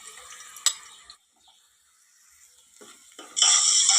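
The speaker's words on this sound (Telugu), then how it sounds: "నూనె వేడెక్కిన తర్వాత ఉల్లిపాయలు, పచ్చిమిరపకాయలను వేసుకోవాలి." Onions and green chilies go into heated oil for a Godavari-style fish curry. A near clatter is followed by a quiet pause, then a loud, steady sizzle erupts and continues to the end.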